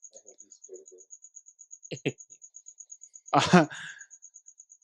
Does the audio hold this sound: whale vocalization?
no